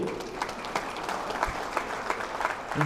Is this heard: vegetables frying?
no